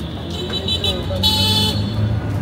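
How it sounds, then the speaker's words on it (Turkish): Busy street traffic in Bangladesh with no signals or lanes, a steady rumble of engines under a high, tonal car-horn toot that sounds through the middle, with other horn notes scattered throughout. "İnanılmaz bir trafik ya."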